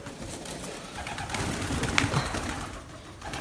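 Young pigeons cooing and calling softly inside a coop, a steady low murmur of bird sounds with a brief sharper call near the middle, close by and continuous.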